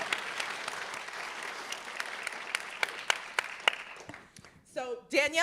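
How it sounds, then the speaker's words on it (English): An audience at a film Q&A applauds actress Danielle Deadwyler, dense clapping that thins into scattered claps before talk begins at the end. "she deserves her own round of applause"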